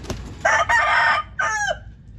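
A rooster crows loudly and close by, a single call in several drawn-out, hoarse segments with brief breaks between them, standing alone with no talking.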